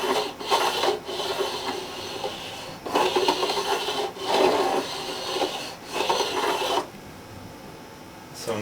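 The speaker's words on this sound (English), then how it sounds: "You can see the file is running pretty smooth." A hand file works along a guitar repair part in bursts of dry scraping strokes, each pass a rasping rub with short pauses between, close and moderately quiet.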